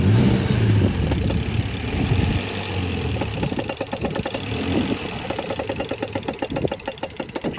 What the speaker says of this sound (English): It's just a thrashed air conditioning compressor.